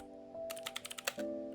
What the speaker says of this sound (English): He eventually found his second-in-command at her PC typing away